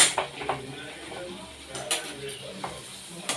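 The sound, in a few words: stirring and frying chicken in a pan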